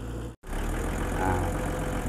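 Kubota M4500 farm tractor engine runs steadily, a low, even mechanical drone broken by one very brief dropout near the start, then continuing unchanged.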